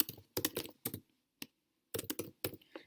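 Fingers type on a computer keyboard in quick clustered bursts of close keystrokes, broken by brief gaps of silence.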